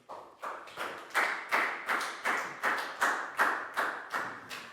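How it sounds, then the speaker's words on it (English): A small class of pupils claps in a round of applause, about a dozen loose, rhythmic bursts of hand claps close by, with no talk over them. "Big round of applause for Dan."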